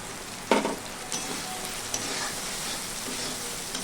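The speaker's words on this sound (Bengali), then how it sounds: "জিরে ও হলুদ গুঁড়োটা নেড়েচেড়ে একটু মিশিয়ে নিলাম" Ground cumin and turmeric stirred in hot oil in a frying pan for a colocasia-leaf dish, a steady close hiss of frying with one sharp stir near the start and a few softer scrapes after.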